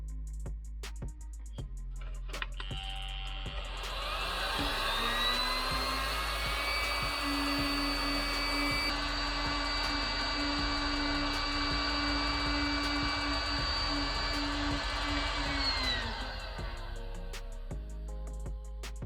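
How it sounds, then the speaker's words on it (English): Electric blower fan used to get a wood stove fire going, a steady loud whine that starts up, holds evenly for about ten seconds, then winds down and shuts off. "Just a couple seconds with this blower, and you got a big success on your hands."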